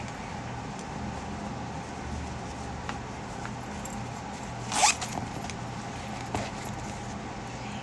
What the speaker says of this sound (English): a little tiny zipper